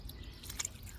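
Coolant dripping from a 5.3L LC9 V8 engine during a teardown, a few soft wet drips over steady low background noise, with one clearer drip standing out midway.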